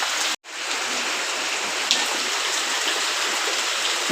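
Steady rain falls in a constant, even hiss, close and fairly loud, with a brief dropout near the start and no voices.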